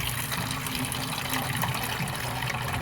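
Steady splashing gush of water pouring continuously from a motorcycle engine during an oil change, fairly close, with no talking over it.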